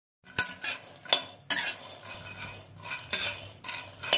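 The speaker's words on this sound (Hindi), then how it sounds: "कढ़ाई चढ़ाओ, उसमें मूंगफली का दाना डालकर उसको अच्छे से फ्राई कर लो।" Raw peanuts are fried in a kadhai while a spatula scrapes and clatters against the metal in repeated, uneven strokes, close and fairly loud.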